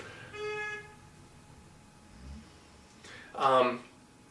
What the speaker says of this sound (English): Someone's honking their horn out there, it's kind of annoying.